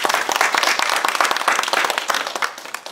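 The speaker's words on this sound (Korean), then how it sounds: "그동안 수고하신 우리 서병용 사무처장님, 손한배 교무처장님, 전윤호 총무님 박수 크게 한번 쳐드립니다." An audience at a church education-academy lecture applauds warmly, with dense, steady clapping from many hands that carries at a constant level for the full few seconds before easing slightly at the end.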